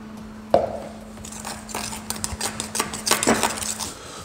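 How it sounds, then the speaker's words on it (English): A knife clinks and scrapes around a bowl while mixing savory scone dough of cheese, onion, pepper and herbs made with vegetable fat and plant-based milk, with a sharp tap early on and busier clattering toward the end. "Once you mix together with your knife, you just bring your hands in, bring it all together to form a dough"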